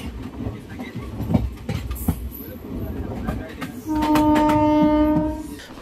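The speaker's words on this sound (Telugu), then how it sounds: "ఇప్పుడే మన ట్రైన్ చంద్రగిరి రైల్వే స్టేషన్ నుండి బయలుదేరింది." Tirupati Intercity Express train pulling out of Chandragiri railway station, with rumbling, clattering carriages and a loud sustained horn blast partway through, heard from on board.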